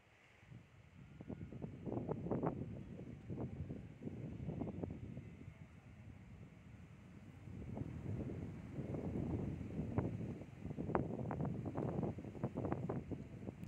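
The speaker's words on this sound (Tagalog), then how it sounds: "Lakas ng hangin." Strong wind buffets the microphone with a steady roaring rumble that swells and gusts throughout, loud and close, with no voices.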